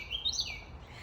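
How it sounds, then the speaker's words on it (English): A bird calls loudly outdoors at the end of the day, a quick bright chirp or two over a faint, steady background. "That bird is so loud"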